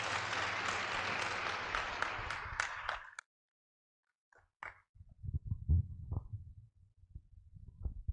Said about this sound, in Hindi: ताली बजा के आपका स्वागत।